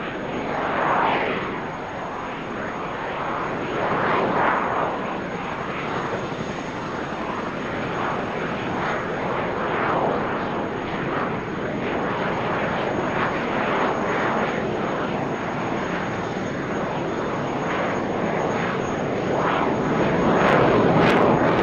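An F/A-18 Hornet fighter with two General Electric F404 engines performing at an airshow, a loud sustained jet roar with rising and falling swells as it passes, with no voices over it.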